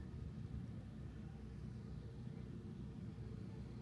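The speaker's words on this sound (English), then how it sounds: "Drone's way over there. I just lost view of it." A drone flying somewhere off in the distance, out of sight, gives a steady low rumbling hum that holds at a constant level with no talk over it.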